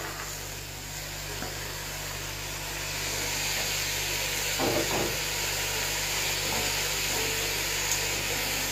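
Frozen green beans dropped into a hot pan, where a broad steady sizzle and hiss swells after a few seconds and keeps going, with a brief clatter of stirring partway through and no talking.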